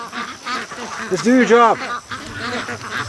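Ducks being herded out at morning release give a burst of harmonic quacking calls in the middle, fairly close, with someone talking before and after.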